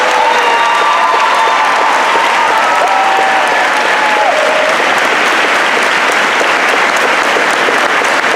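Loud, sustained applause from a graduation audience at Seoul American High School, a dense wash of clapping with scattered cheers and shouts running the whole stretch.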